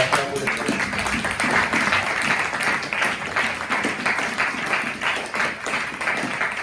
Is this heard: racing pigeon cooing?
no